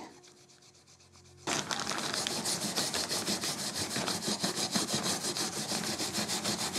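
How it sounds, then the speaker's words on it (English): Steel wool soaked in denatured alcohol scrubs the handle of an old hand saw, starting after a quiet moment and then continuing as loud, steady, close rasping strokes with no talking. "use a little bit of steel wool and some denatured alcohol first to clean it up"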